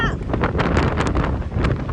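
Strong outdoor wind in a village in Salyan gusts and buffets the microphone, a loud, rough rumbling roar that swells and dips over a couple of seconds.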